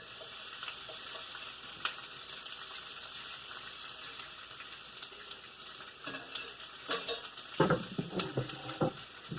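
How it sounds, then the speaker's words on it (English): Onions sizzle in a hot pan with a steady frying hiss, then louder clatter and stirring bursts toward the end as they are moved around; no voices. "I got my pan nice and hot for my onions. Put them in there."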